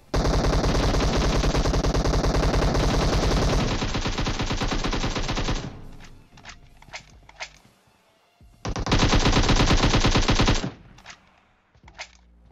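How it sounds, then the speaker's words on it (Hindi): M762 rifle fire in the mobile game PUBG Mobile, heard as two long, loud automatic bursts separated by scattered single shots and quieter gaps. "जब भी मेरे अलावा कोई और एम सात छः दो पटकाता है तो उस गन की आवाज़ सौ गुना ज़्यादा आती है रिकॉर्डिंग में"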